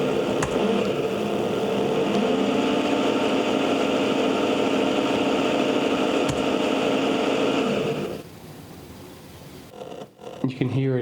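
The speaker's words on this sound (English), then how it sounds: "You can hear it, it's trying to spin, but it's not starting properly." A 3D-printed electric motor struggles to start, giving a loud, steady tonal hum and whine for about eight seconds before cutting to a quieter rumble, with a few handling clicks at the end.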